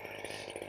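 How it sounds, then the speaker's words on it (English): A hedge trimmer runs with a steady, buzzing motor whir at close range, loud and continuous throughout, with no talking. "hedge trimmer looks like it's fine."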